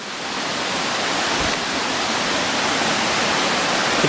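A waterfall running lightly, with less flow than usual, fills the air with a loud, constant rushing hiss that never lets up and has no voices over it.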